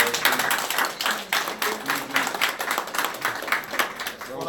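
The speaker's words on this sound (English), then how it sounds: "So if you could just give Jim a round of applause" A small crowd applauds at a nightly name-calling event for the Arizona Run For The Fallen, with steady, scattered clapping lasting several seconds that pulses slightly, close and moderately loud, with no talk over it.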